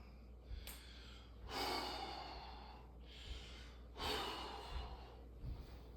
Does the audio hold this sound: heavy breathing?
yes